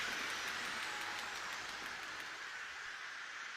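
A steady, dense roar of a cheering cricket crowd from the game Cricket 24, heard as continuous broadband noise at an even level throughout, with no voices distinguishable.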